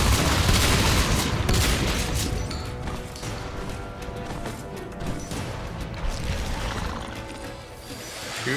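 Shotgun blasts aimed at an alien hive during a video game shotgun rush, a dense, continuous barrage of booms and crashes layered over game noise, loud and close throughout with no pauses.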